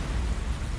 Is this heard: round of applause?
no